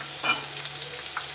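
Round-sliced garlic frying in a pan gives a soft, steady sizzle with a faint stirring scrape near the start, brief and close, with a low hum beneath.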